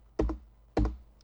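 Two crisp presses of the Enter key on a computer keyboard, a fraction of a second apart, close and quiet, with silence around them.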